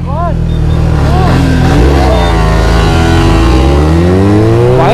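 Suzuki Hayabusa and Yamaha R1 motorcycles in a drag race, first giving short throttle blips, then revving up together in rising, overlapping engine howls that grow loud and close.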